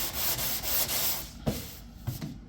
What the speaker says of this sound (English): The rest of it I have been kind of dressing and filing as I go.